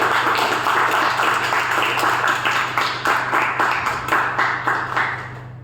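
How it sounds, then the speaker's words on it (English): Applause from a small audience at a Toastmasters club meeting, a steady patter of clapping with distinct individual claps, fairly close and loud, tapering slightly toward the end, with a low steady hum underneath. "Let's give a big round of applause."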